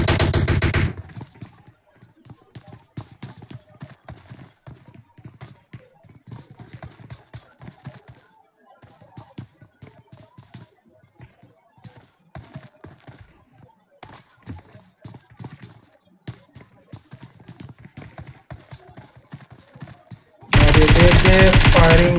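Rapid bursts of video game gunfire crackle through a match in a couples-versus-singles session, with dense rattling shots under near-continuous talk and loud noise bursts at the start and end.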